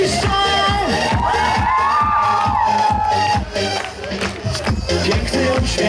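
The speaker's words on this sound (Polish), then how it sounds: "Oczywiście tym razem wszystkie Cudne Dziewczyny piszczą!" A live concert crowd at a Polish outdoor show in Głogowo, with girls squealing and cheering loudly and continuously over pounding music, the shrieks swelling and then easing a little toward the end.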